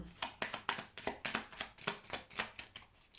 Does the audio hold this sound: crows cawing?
no